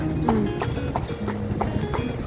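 Horse hooves clip-clop in a steady, even rhythm as a horse pulls a carriage through the streets of Lampang, close and fairly loud over a continuous low rumble of wheels and traffic.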